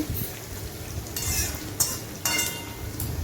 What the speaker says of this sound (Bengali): আলুটা দিয়ে আলুটা ভালো করে ভেজে নেব